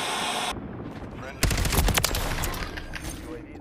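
Rapid automatic gunfire from a Call of Duty Modern Warfare 3 multiplayer match, loud bursts of shots crackling close by after a short burst of high hiss, with a voice talking over the shooting.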